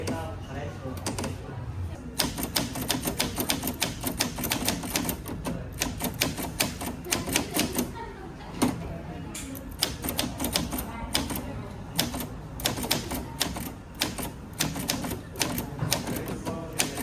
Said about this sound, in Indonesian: tolong ketik naskah ini dengan cepat